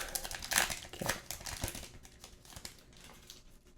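Hockey trading card pack wrappers being cut open, close crinkling and crackling foil plastic in a steady rustle that fades toward the end, with no voices.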